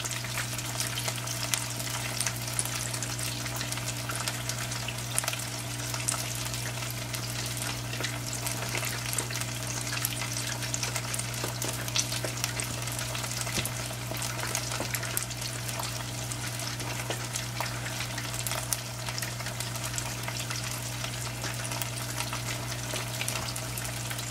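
Beer-battered catfish fries steadily in a small fryer, a dense, continuous crackle and sizzle of hot oil holding an even level from start to finish with no talking.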